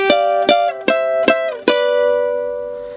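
A ukulele picks a short intro lead line, five bright plucked notes in quick succession with the last one left ringing, close and alone.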